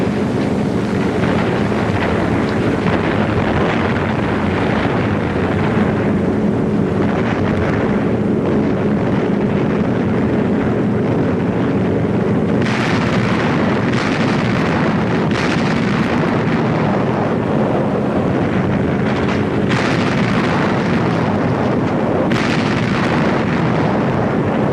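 A World War II aerial attack by nearly 1,000 fighters and bombers on German strong points: a dense, unbroken roar of rumbling blasts and engine drone, loud throughout, with bursts of harsher crackling layered over it.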